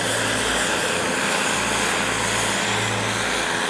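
Radio-controlled scale UH-72 Lakota model helicopter in flight, with a steady loud turbine-like drone and pulsing low rotor throb, continuous and close, with no voices.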